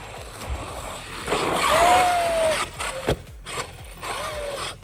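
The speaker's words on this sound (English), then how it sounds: "That tall grass is a little too much for this truck." A Traxxas Maxx RC truck pushes through tall grass outdoors, its electric motor whining and rising in pitch over a steady brushing rustle of stalks, with a few sharp knocks.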